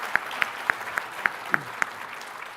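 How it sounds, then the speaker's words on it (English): A handful of sharp, evenly spaced claps, about seven in a steady rhythm, from an audience thanking panelists at an Outlook 2019 discussion panel; thin and sparse rather than a full ovation, with no talking. "A round of applause for our panelists."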